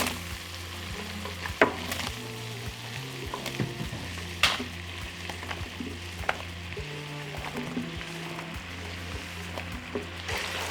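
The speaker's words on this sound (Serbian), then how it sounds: "Dok se šampinjoni prže" Button mushrooms fry in a pan of melted butter and oil, giving a steady close sizzle with occasional sharper pops and scraping stirs, no voices.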